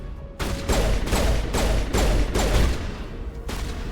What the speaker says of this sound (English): Oh, I shot Rex in the back!